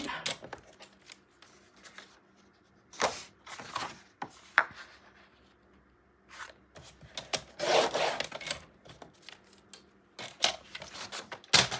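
Paper album pages for a 9 x 9 mini album being trimmed a quarter inch, with bursts of rasping, rubbing cuts and paper handling recurring in close, uneven strokes and short pauses between.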